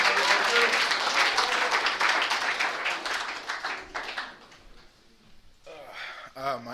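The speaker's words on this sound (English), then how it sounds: "A round of applause." A recovery meeting audience gives a speaker a round of applause with full, steady clapping that gradually fades out, before a voice begins talking near the end.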